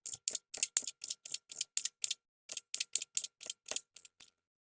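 A knife finely chops cilantro on a cutting board for guacamole, a rapid run of crisp close taps with a short pause midway before it stops.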